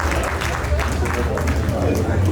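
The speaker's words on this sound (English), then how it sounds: "Please give her a round of applause." Applause and crowd noise at a doctoral graduation celebration, a steady wash of clapping mixed with babble and a low hum underneath, fairly loud and continuous.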